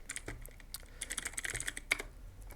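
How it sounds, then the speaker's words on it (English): Keys clatter on a computer keyboard in quick, uneven bursts, with a few sharper clicks standing out, quiet and close, with no voices. "type here background apps"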